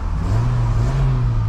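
A 2000 Peugeot 306 SW 1.8 16v engine revs up, a loud, low rumbling roar that rises slightly and holds steady for a moment.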